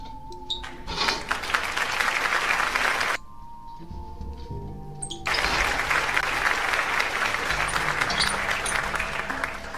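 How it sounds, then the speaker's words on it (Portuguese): Canned applause sound effect played during a rose and cashew painting session: steady, dense crowd clapping that cuts out for a couple of seconds, leaving a faint tonal hum, then resumes at full level. "Tá funcionando o aplauso, viu?"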